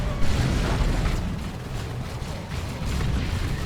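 Plasma cannon blasts in the Dawn of War 2 real-time strategy game boom and rumble one after another, a dense, continuous barrage of explosions without talk.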